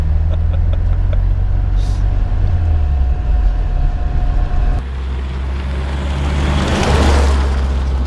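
A 1976 BMW 2002 Coupe drives along, its engine a loud, steady low drone with road and wind rush, the tone shifting midway as it changes pace.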